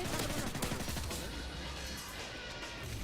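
Gunfire in the video game Modern Warfare 3, with a rapid cluster of sharp shots and bursts up front giving way to a busy, noisy background of distant battle sounds.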